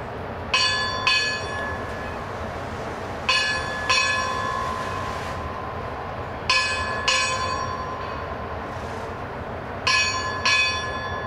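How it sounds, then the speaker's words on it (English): A ship's bell on the Coast Guard cutter USCGC Chase strikes eight bells at a decommissioning ceremony, ringing in four evenly spaced pairs of clear metallic strokes over a low outdoor hum, each stroke left to ring out. "Strike 8 bells."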